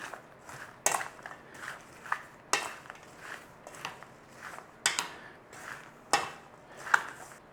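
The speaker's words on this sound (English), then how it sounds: "Now we're going to give that a mix in" A spoon scrapes and knocks around a bowl while salt is stirred into a rhubarb base, a steady series of close, moderately quiet clinks and scrapes roughly once a second, with no talking.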